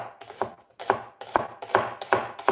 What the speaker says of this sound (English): Let's cut the spring onions like this.